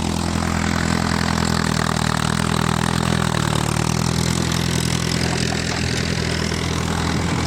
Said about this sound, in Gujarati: ટ્રેક્ટર એ ચાલુ છે જો